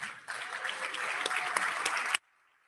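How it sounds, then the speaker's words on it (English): Audience at a business awards breakfast in West Palm Beach clapping steadily, a dense, fairly close round of applause that stops abruptly at the end. "I know you're going to applaud anyway, so applaud whenever you want to."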